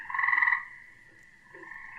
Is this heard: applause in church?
no